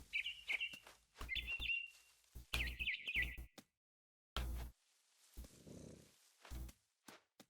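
Songbird chirping from the game What Remains of Edith Finch, bright repeated tweets in short bursts, fairly close, with soft footsteps and rustling between calls and no talk.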